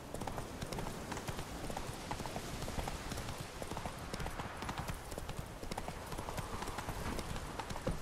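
Roach, the horse in The Witcher 3, trots along a lakeside with rapid, steady clip-clop hoofbeats under a dense game soundscape.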